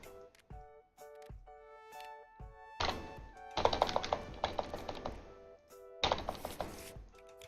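Cards are shuffled in Tabletop Simulator, with bursts of rapid rattling clicks set between bright chiming interface tones, fairly faint and close.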